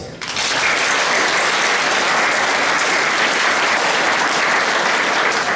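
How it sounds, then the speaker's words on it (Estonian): Audience applause at a school Christmas party, dense steady clapping from a crowd filling the room for several seconds without a break. "Särtsakas aplaus."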